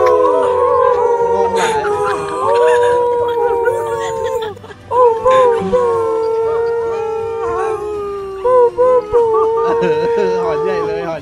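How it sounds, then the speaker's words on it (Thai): Howling wolves in a GTA V roleplay game, several long rising and falling howls layered together, loud and close, with brief breaks and excited talk over them. "หอนใหญ่เลยหอนใหญ่เลย"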